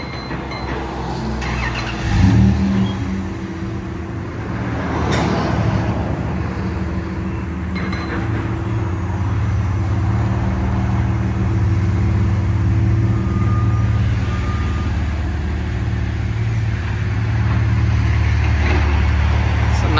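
A 1996 Dodge Dakota Sport pickup's 3.9L Magnum V6 cranks and fires up, then settles into a deep, throaty Flowmaster Super 10 exhaust rumble that holds steady and close.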